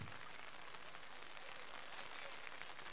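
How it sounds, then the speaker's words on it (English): Heavy rain pours outdoors at a hockey prize distribution event, a dense, steady hiss that stays constant and fills the whole moment without letup. "It's already raining heavily now."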